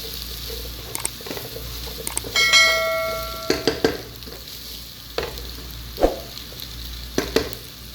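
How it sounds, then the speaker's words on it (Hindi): Okra frying in oil, a steady low sizzle with light stirring scrapes and a few sharp clinks and knocks, close by, with no talk. "बस हम थोड़ा सा इसको फ्राई करेंगे और ये निकाल लेंगे।"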